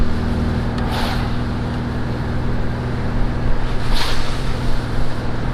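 A 1967 VW Bus on stock tires drives along a very wet road, a loud steady rumble of engine and road noise with hissing spray and wind buffeting, with no voices.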